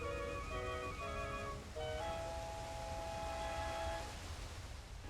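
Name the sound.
waterfall parting in Link's Awakening video game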